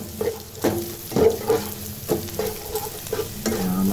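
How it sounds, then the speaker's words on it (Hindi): Beaten eggs fry in an oiled pan for Chinese fried rice, with repeated rhythmic spatula scrapes and taps over a light sizzle, close and clear. "हमारे अंडे फ्राई हो गए हैं"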